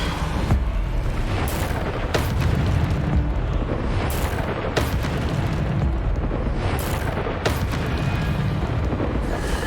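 Repeated spell blasts from the Bombarda explosion spell in the Hogwarts Legacy video game, a dense, loud, continuous barrage of booming bursts with sharp cracks every second or so and no pauses.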